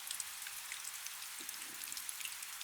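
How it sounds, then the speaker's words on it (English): Soft, steady Pacific Northwest rain patters faintly with scattered light drops, quiet and close, with no voices. "The rain had been falling since before anyone could remember"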